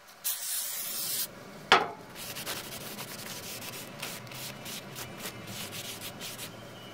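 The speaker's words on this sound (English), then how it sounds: "clean off the brake rotor surface with brake cleaner" A loud hiss of brake cleaner sprayed onto a Subaru Impreza brake rotor for about a second, then a sharp clunk and softer rubbing and scraping noises that continue.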